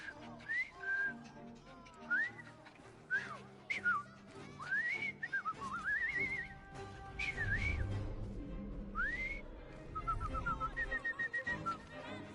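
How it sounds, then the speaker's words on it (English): A character in Assassin's Creed Syndicate whistles a series of short rising and falling melodic phrases, clear and fairly close, with brief gaps between them over low game background sound. "I've just learned to whistle."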